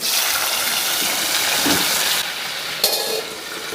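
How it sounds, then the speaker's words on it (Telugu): Prawns hit hot oil in a pan with a loud, close, rushing hiss of frying that settles to a softer sizzle partway through, then flares with one brief spitting burst. "ఆయిల్ వేడైంది, ఇందులో ప్రాన్స్ వేయించుకోవాలి"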